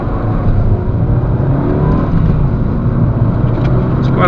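A 2003 Ford Focus Zetec with a 1.6 engine accelerates hard through a 0-60 run, its engine droning loud and close in a steady, continuous pull with no talk over it.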